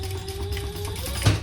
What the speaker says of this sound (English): So we're just going to stitch these two together on the bottom.